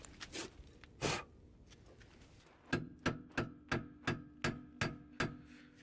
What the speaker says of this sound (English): let me get my hammer,